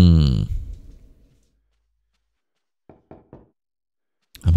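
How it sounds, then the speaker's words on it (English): Three quick knocks on a wooden wine cask in a cellar in the video game Eternal Darkness, giving a hollow thud, isolated between louder game sounds at the start and end. "Knock on this cask results in a hollow thud."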